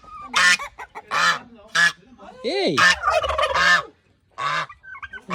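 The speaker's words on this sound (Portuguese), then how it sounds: "Olha o ganso, que lá é bravo," Goose on a farm honking loudly several times in a row amid other fowl calls, with a person calling out nearby.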